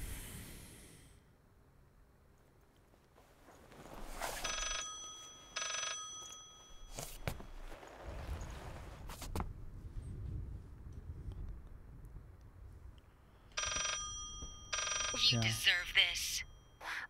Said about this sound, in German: Alter, dieser nervige Telefonsound.